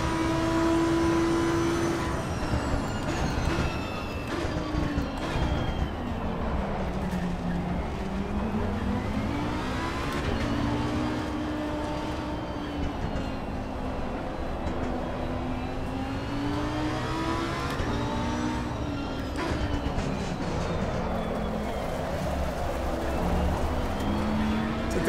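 Race car engines in Assetto Corsa Competizione, played on a 3DOF motion rig, rise and fall in pitch as they rev through gears, a steady close mechanical drone with another car's engine layered beneath.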